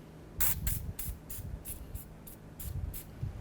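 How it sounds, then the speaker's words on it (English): Penetrant is sprayed onto the wheel hub of a 2006-12 Ford Fusion with the wheel removed, in several short hissing bursts repeated at a fairly even pace, close and clear. "let's go ahead and spray this down with some penetrant"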